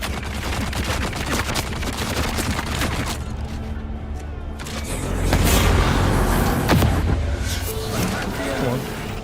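Gunfire from a weapon in the video game Dune Awakening, dense bursts of shots and booming impacts running throughout with a louder stretch in the middle, mixed with game effects under a talking voice.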